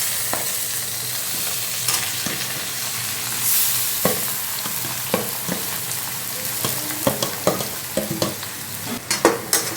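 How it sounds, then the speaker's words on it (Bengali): Fried potato mash and capsicum are stirred in a pan, with a steady close sizzle running throughout and a spatula scraping and knocking in quickening strokes toward the end, no talking. "এবার সব কিছু দিয়ে এবার ভালো করে এটাকে নাড়তে হবে।"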